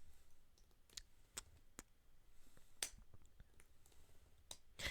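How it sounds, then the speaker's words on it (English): A chapstick-like tube being fiddled with, giving faint, sharp, irregular clicks spaced a fraction of a second to a second apart over a quiet background. "There was a clicking sound. I had my chapstick."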